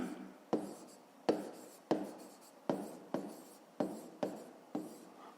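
Someone writes an equation for a fifth-grade math exercise, the pen giving about eight sharp strokes at an uneven rhythm, close and fairly quiet, with no talk.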